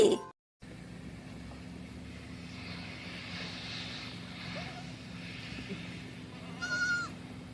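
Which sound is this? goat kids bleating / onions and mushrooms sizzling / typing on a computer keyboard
goat kids bleating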